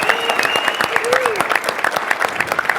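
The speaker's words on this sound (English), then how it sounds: "We practice the clapping and the noise." Audience applause at a tech summit with about 450 attendees, a steady mass of clapping filling the room for a few seconds, close and fairly loud.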